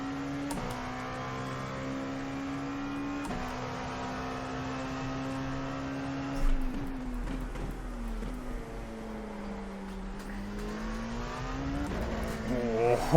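LMP2 race car engine in the iRacing video game at Red Bull Ring, a steady tonal drone that holds pitch, dips and rises again as the car slides, with faint talk in the background.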